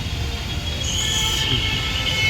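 A Mumbai local train rumbles past close by, low wheel rumble with a high metallic squeal of wheels on rails rising midway.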